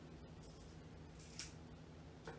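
Scissors snip through folded paper down the middle while making paper airplanes, a few soft, short cuts spaced apart in a quiet room.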